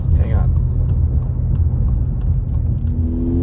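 Car cabin rumble as the vehicle slows to pull onto the roadside on a stormy day near Big Bear City, California, a steady loud low drone with a faint whine rising near the end.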